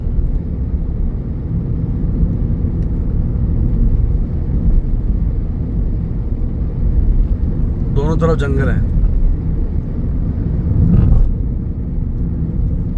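A car drives at night along a deserted jungle road in Jim Corbett. A steady, loud engine and road rumble is heard from inside the vehicle, and a person speaks briefly partway through.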